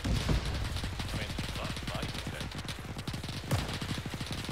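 Dense rapid gunfire and HE shelling in a World War II ArmA 3 battle with an anti-tank gun under fire, a sustained rattling volley of shots with a few heavier booms, loud and continuous.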